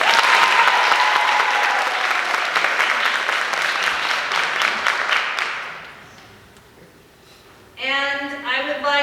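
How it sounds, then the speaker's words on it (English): An audience at a high school thespian award night gives a sustained round of applause that fades out after about six seconds, and a voice then speaks near the end. "Let's give her a round of applause."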